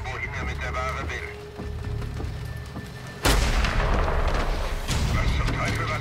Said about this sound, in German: Wer hat da geschossen?